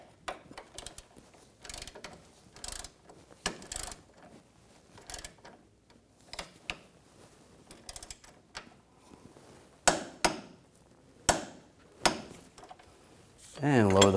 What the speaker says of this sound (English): Now I'm going to torque this to 74 foot-pounds.